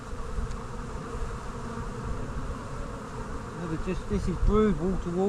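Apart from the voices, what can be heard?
honey bees buzzing around an open hive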